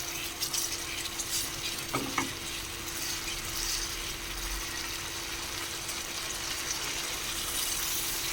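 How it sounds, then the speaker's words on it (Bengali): A turmeric-laced spice paste for egg kosha sizzles steadily in a pan, a soft continuous hiss with a couple of light utensil taps early on as it is stirred and cooked down. "দু চামচ হলুদ গুঁড়ো দিয়ে দেব, দিয়ে আমি মশলাটাকে ভালো করে কষে নেব"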